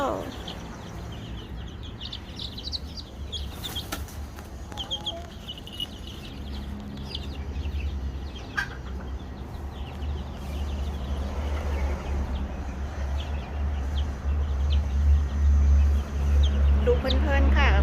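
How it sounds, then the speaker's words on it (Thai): Frizzle silkie chicks and chickens cluck and call on a farm during vaccination day, a steady low bustle of fowl with a voice talking over it and some handling noise. "ลูกไก่ซิลกี้ขนกลับนะคะ ดูไก่ตีกัน"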